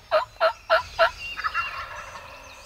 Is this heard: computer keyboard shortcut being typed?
no